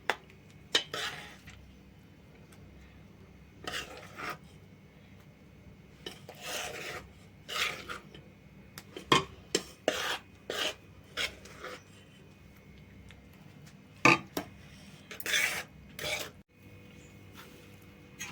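Spoon scraping and rasping against a metal pan as homemade tomato and dried red chilli pickle is scooped into a bowl, a run of repeated short scrapes with brief pauses, close and fairly quiet, no talking.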